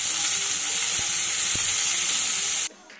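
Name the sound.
chopped onion frying in a pan, sizzling while stirred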